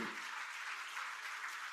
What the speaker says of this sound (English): Can I see everyone clapping?